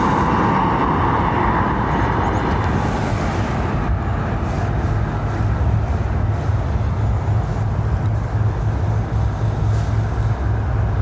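An airliner rolls for takeoff on runway 28 right at Dublin Airport, a steady loud engine roar and broadband rumble that holds for about eleven seconds with no voices.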